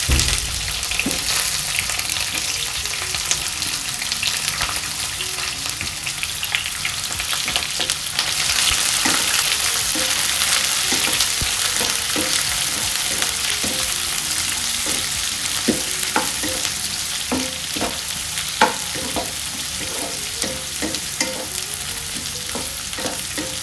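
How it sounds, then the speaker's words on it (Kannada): Onions frying in oil with peanuts, chana dal and mustard seeds for tomato chitranna: a loud continuous sizzle with busy crackling and repeated scraping stirs, close, with a brief surge after the onions go in, and no speech. "ನಾನೀಗ ಆನಿಯನ್ಸ್ ಹಾಕ್ತಾಯಿದ್ದೀನಿ."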